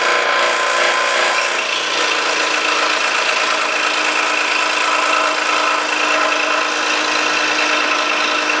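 Scroll saw cutting a circle in flat plywood, a loud, steady buzzing drone with a fast reciprocating chatter, close and uninterrupted.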